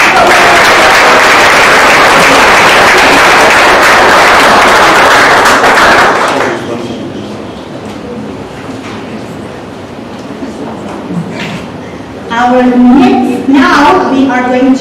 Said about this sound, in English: Now we are going to give a big round of applause